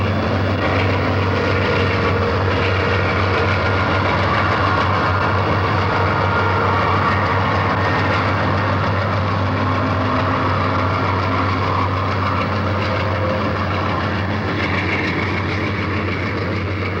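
Conrail's SEBO freight train bound for Boston, July 1978, rumbles past with a steady heavy diesel drone and continuous rolling rail noise, loud and unbroken throughout with no voices.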